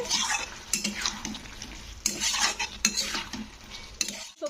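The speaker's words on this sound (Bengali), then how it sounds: "জল দিয়ে একটু ভালো করে এটাকে কষে নিতে হবে" Drumstick (sajne) vegetable pieces are stirred and sautéed in a pan with a little water, a spoon scraping and clinking repeatedly against the metal under a soft sizzle.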